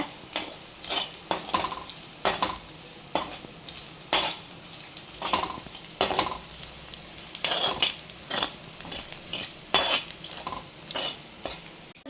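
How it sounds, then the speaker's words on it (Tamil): Egg bhurji (egg podimas) seasoned with turmeric and salt sizzles softly in a pan while a spoon stirs it in quick, repeated scraping strokes, each clatter sharp and close against a low frying hiss. "நல்லா கலரிக்கோங்க."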